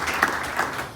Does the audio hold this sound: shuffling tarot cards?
no